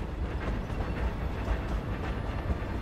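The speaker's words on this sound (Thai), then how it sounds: "รถไฟกำลังจะชนเรา" A train rushes past in Hogwarts Legacy with a dense, steady rumbling roar lasting a few seconds, close and fairly loud, with no talking.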